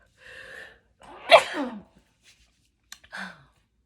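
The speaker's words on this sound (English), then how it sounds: "I think I have to sneeze." A single loud sneeze follows a short breathy intake, with a few faint breaths and a soft voice sound around it.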